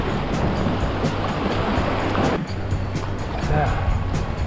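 Rushing river rapids on the Rio Grande surge in a steady, loud roar of churning whitewater close around a kayak, with irregular splashes and paddle strokes throughout.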